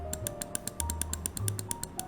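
Sharp plastic left-button clicks of a Gwolves Hati S Classic Edition gaming mouse repeat in a quick, steady rhythm, close and crisp, about a dozen in two seconds.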